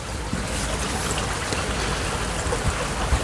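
Water trickles and soaks through freshly ground coffee beans during an outdoor brew, a soft continuous pouring and dribbling sound, close and steady.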